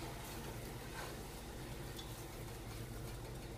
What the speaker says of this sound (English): Add in a little more breadcrumb. Give that a stir.